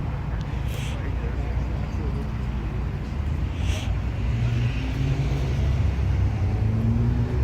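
A Ferrari sports car drives past at a supercar gathering, its low engine rumble swelling steadily over crowd noise.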